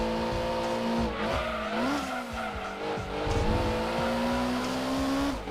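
Honda Civic Type R at racing speed in Gran Turismo 2, engine note holding high then dipping and climbing through a corner as the car oversteers, loud and continuous, with no talk.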